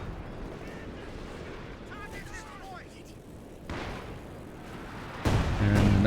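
A ZiS gun artillery barrage in a strategy video game: muffled booms and impacts building to a louder burst near the end, under continuous game ambience while a commentator talks.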